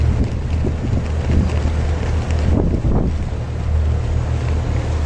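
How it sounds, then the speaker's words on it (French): Strong wind buffets the microphone aboard a sailboat leaving the port of Arrecife on Lanzarote, a loud constant roar with low rumble and rushing water, no break for the full few seconds. "il y a beaucoup de vent aujourd'hui"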